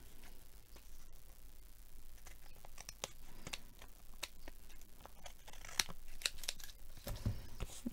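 Scissors trim bits of plastic in a run of small, faint, irregular snips and crinkly ticks, close and quiet.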